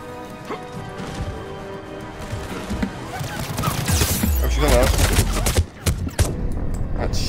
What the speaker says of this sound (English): I shot him like 10 times.